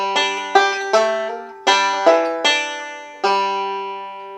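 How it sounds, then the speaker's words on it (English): Banjo roll picked slowly with pinches in the middle of the pattern, bright plucked notes ringing out one after another in a steady, unhurried sequence, played solo and close. "I'm going to add some pinching to the middle of the roll."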